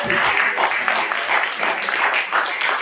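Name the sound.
applause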